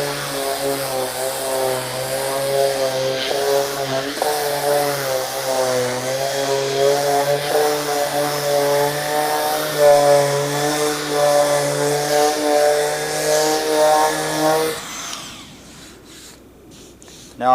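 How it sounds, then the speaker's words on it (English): An electric orbital sander works the face of a cottonwood raised cabinet panel, a loud steady motor whine with a buzzing tone that wavers slightly as it moves across the wood, then cuts off near the end. "This is cottonwood, and I'm going to just sand the face up."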